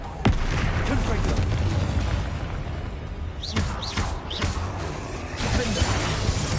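A Confringo blasting spell explodes amid Hogwarts Legacy combat: a dense, loud roar of bursts and cracks fills the scene continuously, with sharper blasts standing out partway through.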